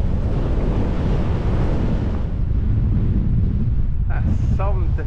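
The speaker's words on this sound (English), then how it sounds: "There's a headwind coming up there" A strong coastal headwind buffets the microphone on a winter fatbike ride along a beach, a loud continuous rushing roar, with a short voice heard near the end.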